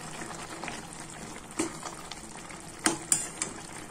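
Bombay duck fish and onion are stirred in a pan, giving a quiet bubbling sizzle broken by several sharp scrapes and clinks of the spatula, close and moderately faint.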